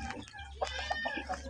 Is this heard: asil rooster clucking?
yes